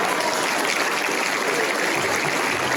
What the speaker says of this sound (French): Oh, applaudissements.